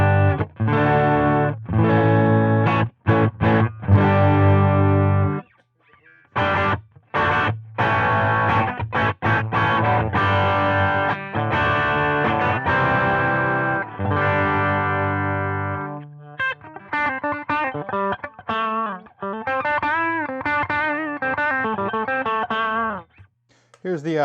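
Electric guitar built from assorted parts, played through a tube driver distortion pedal: chords and picked notes with a saturated, sustained tone, loud and alone, shifting to a warbling modulated passage near the end.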